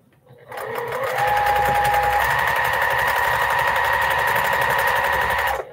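Sewing machine chain piecing small 2.5-inch quilt blocks on a quarter-inch seam, running in one steady, close, continuous whir for about five seconds with no pauses.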